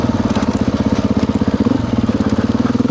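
A Beta dual sport motorcycle engine thrums steadily while riding through open desert tracks, its rapid, even pulsing close and loud with no talk.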